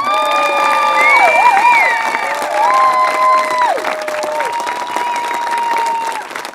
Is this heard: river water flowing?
no